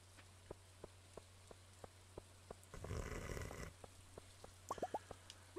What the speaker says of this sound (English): here we are, fishing in the rain.